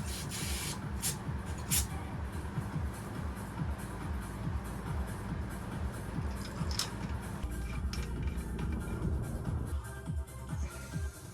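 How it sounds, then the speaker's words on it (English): Aerosol spray hissing in steady bursts over Ford Sierra Cosworth engine parts in a workshop, close and fairly loud, with faint clinks of metal parts in the background. "just going to give them a spray"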